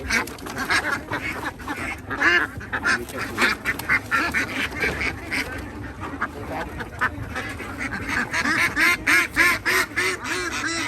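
A dense flock of young Thai CP Super laying ducks at a farm in Soeng Sang district, Nakhon Ratchasima, quacks continuously. Many overlapping calls come close and loud, with no talk.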